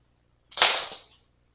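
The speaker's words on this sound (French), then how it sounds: "Je retire juste la veste." A jacket is taken off during an indoor Pilates session with a hoop, a single brisk swish of rustling fabric lasting under a second, close and fairly loud in an otherwise silent room.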